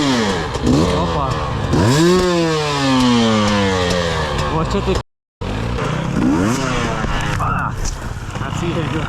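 A two-stroke Bombardier enduro motorcycle revs and accelerates close by, its buzzy engine climbing and falling in pitch through repeated throttle bursts, with a brief cut in the middle and someone speaking over it.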